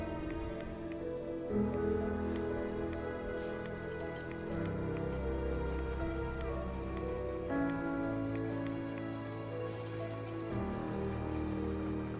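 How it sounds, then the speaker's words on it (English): Steady rain pattering on surfaces in the Fallout 4 Far Harbor video game, a continuous close wash of drops with low ambient tones and music-like drones underneath, no voices. "Just thinking how wonderful it'd be to get out of this infernal rain."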